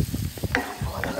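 Onion frying in butter on a griddle for Sinaloa-style burritos, a brief soft sizzle with a few stirring scrapes over about a second, fairly close.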